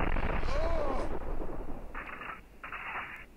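Shotgun blasts from the game Max Payne 2, a loud booming shot followed by a couple of shorter bursts, heard over a continuous game soundtrack.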